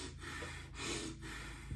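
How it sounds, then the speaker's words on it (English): Quick, deep breathing exercise with forceful in-and-out breaths in a steady rhythm, each breath a broad rushing sound, close and clear with no talking. "deep breathing exercises, it's really just like spending 10 minutes just breathing in and out"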